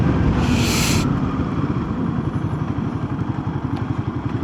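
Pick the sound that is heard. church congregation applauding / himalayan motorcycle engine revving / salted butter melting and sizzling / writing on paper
himalayan motorcycle engine revving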